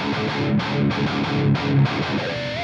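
A heavily distorted electric guitar, a Jackson Lee Malia signature model, plays a chunky, rhythmic riff at steady volume, with thick, saturated high-gain chords ringing out and no voices.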